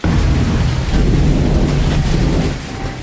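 Heavy rain pours steadily in a thunderstorm in Bangladesh while thunder rumbles low and loud underneath, the storm sound dense and continuous before easing slightly at the end.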